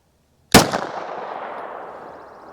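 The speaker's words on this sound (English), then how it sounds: "here we go with 5 rounds of the M17 plus P" A single sharp report from a 9mm M17 pistol firing a Sig V-Crown +P 124-grain round, loud and close, with a ringing echo that trails off over about two seconds.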